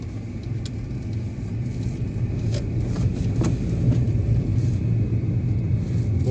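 Hyundai Grand i10 2015 Asta petrol hatchback heard from inside the cabin while turning, a steady low engine rumble and road noise with faint clicks, no talking.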